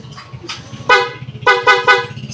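Piaa horn fitted to a Yamaha Aerox v3 scooter, sounding in several loud, close honks: a couple of softer short toots, then three strong blasts of increasing length with a bright, buzzy tone over idle rumble.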